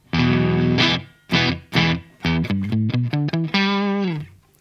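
Dry electric guitar played with the Neunaber Immerse reverb pedal switched off, a sustained chord, then separate strummed chords and a quick run of short plucked notes, ending on a held chord that stops abruptly with no reverb tail.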